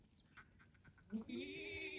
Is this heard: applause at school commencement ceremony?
no